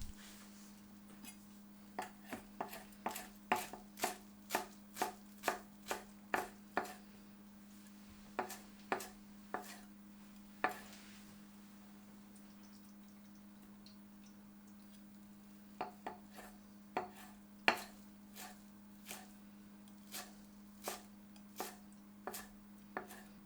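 A knife roughly chops cilantro leaves on a cutting board in quick bursts of sharp, evenly spaced taps, close and quiet, with pauses between runs over a steady background hum and no talking.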